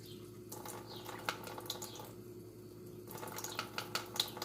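Two tablespoons of plain water are poured into a bulgogi marinade of soy sauce, sesame oil and sugar, making a faint, brief trickle and splash that stops and starts over a quiet kitchen background.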